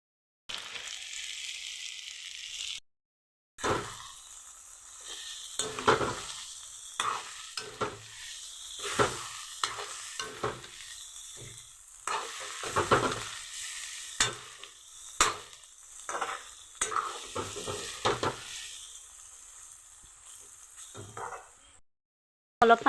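Potatoes stirred and fried in a pan, a spatula scraping and clattering in an irregular rhythm over a continuous sizzle, close and fairly loud, with a short silent gap near the start.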